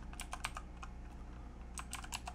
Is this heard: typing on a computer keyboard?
yes